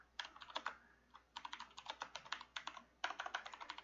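Keys clatter on a computer keyboard while text is typed into Notepad on a Windows machine, in quick close bursts with a short pause near the middle, no voices.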